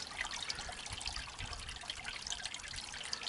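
Grey water from an RV holding tank draining out onto the ground, a steady close trickling and splashing flow of soapy dish and shower water, continuous and fairly quiet with no voices.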